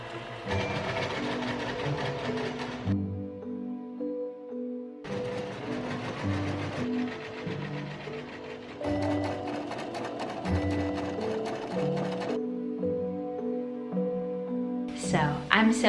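A home sewing machine stitches a dress bodice in several separate runs of a few seconds each, with short pauses between them and a steady tonal background underneath.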